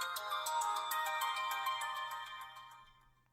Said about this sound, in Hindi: पता नहीं किसका फोन है, उठाऊं या ना उठाऊं?